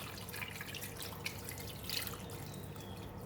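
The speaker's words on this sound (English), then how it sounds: "So now we're going to add in the water until" Water poured into a pan of partly cooked pork belly for char siu, a steady close trickle and splashing running without a break.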